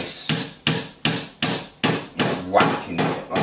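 A hammer taps parts of a flat pack cabinet into place with nine steady, evenly spaced knocks, each sharp and close, ringing briefly before the next blow.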